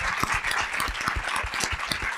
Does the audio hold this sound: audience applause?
yes